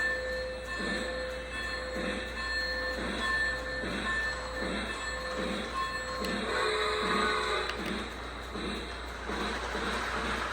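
A Lionel LionChief Polar Express toy train runs along its track with a steady, regular clickety rhythm from the wheels over rail joints, backed by a constant motor hum and faint high squeals.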